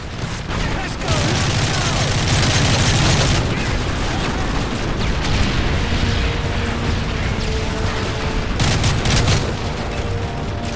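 Dense, continuous gunfire from an attack helicopter and a crowd of soldiers in Call of Duty: Modern Warfare 3, loud and sustained with heavy bursts throughout.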